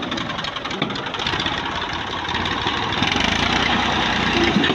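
A 1985-model tractor engine idling loudly and steadily up close, a dense rattling, knocking chug that holds even throughout with no voices.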